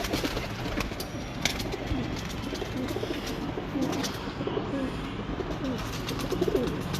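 Mazwale breeder pigeons coo repeatedly at close range, soft throaty calls layered over a constant background hum with faint voices nearby.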